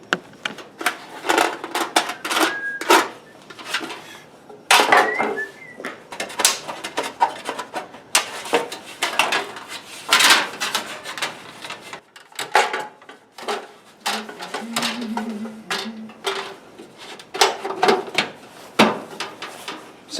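Leftover aluminum trim from a garage being cut up in a home workshop, giving a series of sharp, uneven cutting and clattering bursts that stop and start across the stretch, close and fairly loud, with no talking.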